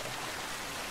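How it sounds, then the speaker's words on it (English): A waterfall in the pirate video game Sea of Thieves gives a steady, faint broadband rush of falling water, continuous and even with no voices. "It's a waterfall."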